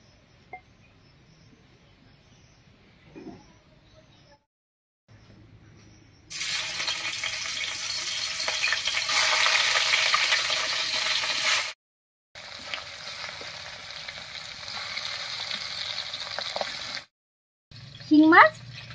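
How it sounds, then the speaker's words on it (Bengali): Shing fish frying in mustard oil in a wok, giving a loud, steady broadband sizzle that runs for several seconds, cuts out briefly, then resumes, with quieter kitchen noise and a few soft clinks around it. "এবার কড়াইয়ে সরষের তেল দিয়ে মাছগুলো ভেজে নিচ্ছি।"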